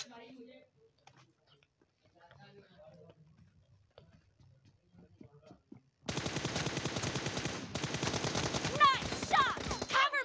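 Video game gunfire erupts midway as loud, dense, rapid automatic bursts that run steadily to the end, following several seconds of quiet, faint voices and soft clicks.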